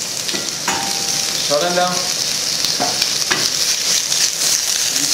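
Sliced carrots sizzling loudly in a hot pot during fish cookery, a continuous close frying hiss with a few stirring clinks, and a brief spoken remark.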